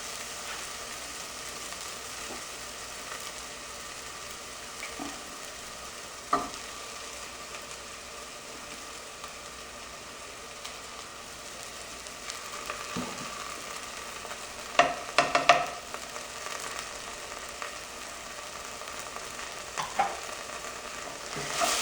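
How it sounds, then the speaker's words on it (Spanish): A spoon stirs morocho soup with pork in a pot over a low, constant simmering hiss. A few scrapes and knocks against the pot sound scattered throughout, with a cluster of louder clatters past the midpoint. "Sigo revolviendo para que no se pegue"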